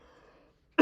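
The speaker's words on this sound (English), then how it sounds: "Coughing on air." A single sharp, loud cough from a live hockey commentator at a Sweden vs Latvia Winter Olympic playoff qualifier, bursting out near the end after a stretch of near silence.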